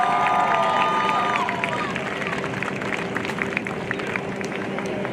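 Crowd at a Tufts football game against Middlebury applauds and cheers for the cheerleading seniors, a steady wash of clapping and voices with a high whistle-like tone fading in the first two seconds, distant and continuous.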